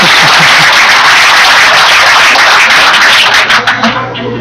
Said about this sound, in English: Blondell Sayginer sitting over there applauding enthusiastically on the successes.